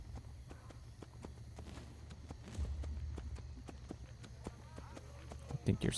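Horse hooves clip-clopping in Assassin's Creed, a steady train of light, close hoofbeats over a low ambient rumble, with crowd or army noise swelling midway and louder knocks near the end.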